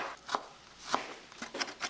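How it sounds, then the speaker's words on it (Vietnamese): A knife taps sharply on a cutting board while mincing shallots, a handful of times at an uneven pace, close up, with a quiet background and no talking. "Hành tím thì mình đập dập và băm nhuyễn."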